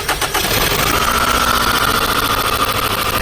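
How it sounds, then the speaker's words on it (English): A vehicle engine being cranked during an ignition spark test, making a loud, close, steady churning drone that holds throughout with a pulsing whir. "what's going to happen is we're going to crank the vehicle"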